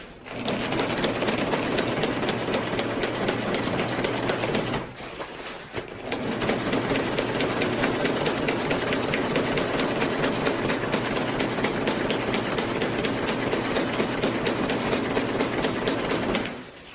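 A sewing machine stitches a tarp in a long, steady, rapid clatter, with a brief pause partway through before the stitching resumes at the same even pace. No one speaks.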